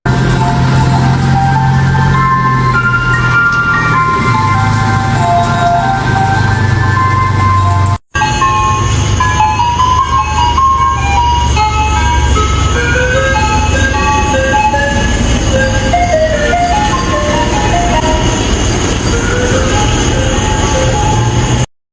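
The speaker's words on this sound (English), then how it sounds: "if you hear the ice cream truck, which is already weird at night, you don't go out there" Ice cream truck chiming its melody at night, a loud, steady repeating jingle that carries on throughout with a brief cutout partway through.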